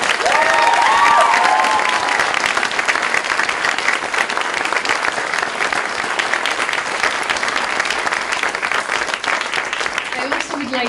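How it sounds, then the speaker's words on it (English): Sustained applause from a large audience at a university graduation ceremony fills the hall, dense steady clapping with a few whoops and cheers near the start, staying loud throughout before easing slightly at the end. "give a round of applause again to say thank you for everything"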